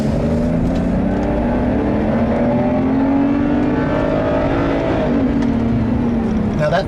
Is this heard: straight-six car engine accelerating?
yes